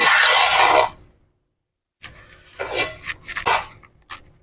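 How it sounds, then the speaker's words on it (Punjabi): Besan barfi mixture stirred in a pan to cool, with close, rough scraping strokes: one long rasp, a pause of silence, then several shorter scrapes. "ਇਹ ਹਲਾ ਹਲਾ ਕੇ ਥੋੜਾ ਠੰਡਾ ਕਰ ਲਿਆ"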